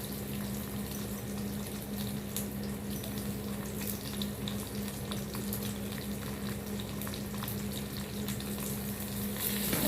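Okra with curry leaves and chillies sautés in a pan for chutney, a faint steady sizzle under a constant low electrical hum, with no speech.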